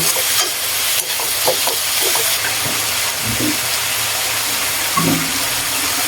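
Vegetables with ground black pepper stirred in a frying pan, a steady sizzling hiss with a few scraping, clinking stirs scattered throughout.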